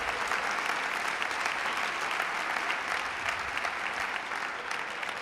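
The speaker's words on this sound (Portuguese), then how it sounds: "pode dar um aplauso ao Senhor." Church congregation gives a round of applause during a sermon, a dense, even wash of many hands clapping, steady throughout and somewhat distant in level.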